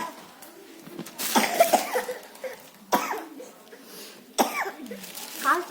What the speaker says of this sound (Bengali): কাশি করছে। এই এত কাশি কেন?